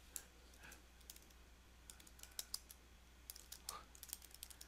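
Soft, scattered clicks from a computer mouse and keyboard, close and quiet, tapping in irregular clusters with no voices.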